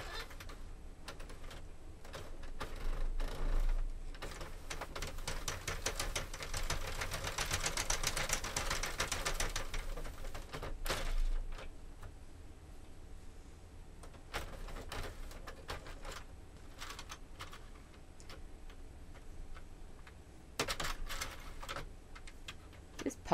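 A knitting machine casts off onto waste yarn, a dense run of rapid clicking and clattering that builds to a busy stretch, then thins into scattered ticks and short bursts at close range.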